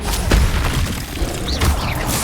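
Confringo blasting spell going off in the Hogwarts Legacy video game, a couple of deep booming thuds with crackling debris amid ongoing combat sounds, fairly loud and close.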